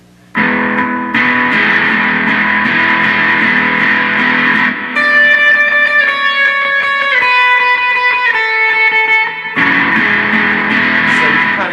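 An electric guitar plays a lead riff descending from D in a worship song, sustained, effected notes changing step by step, loud and alone.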